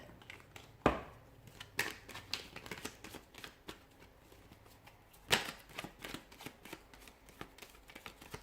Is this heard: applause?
no